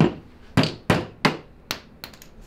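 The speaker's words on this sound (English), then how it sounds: "Now all I have to do is hammer" A bearing and sleeve for a custom mini bike are hammered into place with several sharp, ringing metal blows at irregular intervals, loud and close, each strike decaying quickly, with no talk.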